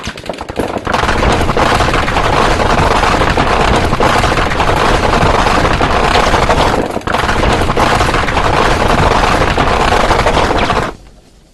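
An M240 machine gun and a Gatling gun fire in a long, very loud, dense burst of continuous rapid shots and impacts, with a short dip midway, before the firing stops abruptly.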